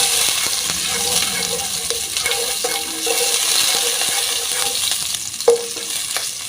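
Garlic sautéing in a pan as the base for salmon-head sinigang: a steady, close sizzle with light stirring scrapes throughout and one sharper knock of the utensil near the end.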